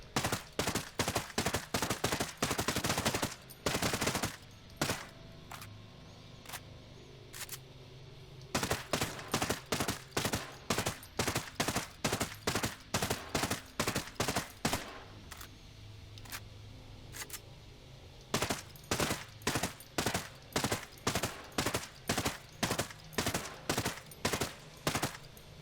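Rapid bursts of G36C rifle fire from Ghost Recon Breakpoint, short three-round groups repeated in steady runs with brief pauses between magazines, loud and close with no talking.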